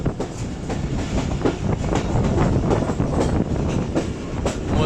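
Jaffar Express passenger train between Multan and Lahore rolls along the rails with loud, close rhythmic clickety-clack of wheels over joints and a continuous rumbling carriage drone, with no voices.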